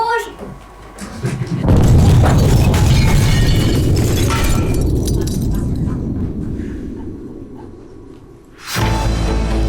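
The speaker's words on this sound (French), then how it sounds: "l'explosion d'une bombe dans le ciel de New John" Loud bomb blast effect in a French stage play, a sustained roaring rumble that swells, holds for about seven seconds and fades, with voices briefly before and after.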